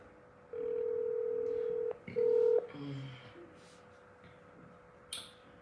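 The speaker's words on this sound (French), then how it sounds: "Attendez, je vais appeler" A telephone is dialed to place a call: one long, steady tone sounds, then a short, louder tone, followed by a few fainter quick tones, all near and clear in a quiet room.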